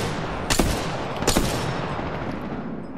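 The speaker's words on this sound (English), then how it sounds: "They're shooting at me" Gunfire in the battle royale game Apex Legends, two sharp loud shots or short bursts about a second apart over a constant background rumble, no talking.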